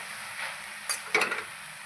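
Fenugreek greens sizzle in an iron wok under a soft steady hiss, broken by a couple of brief scraping stirs near the middle and a short burst of clatter toward the end.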